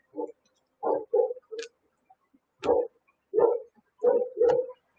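Small dog barking in a house in a string of short, sharp yaps spaced across a few seconds, fairly close and loud, with no talk over it.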